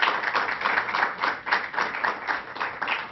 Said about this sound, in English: Let's give a round of applause for Despina Garcia.